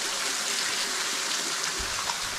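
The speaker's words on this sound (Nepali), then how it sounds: "धारा सुसी लाइदै हुन्छ." Clear mineral water runs from a spout at Chitlang near the Kathmandu valley, giving a steady, bright rushing hiss that stays close and even throughout, with no speech.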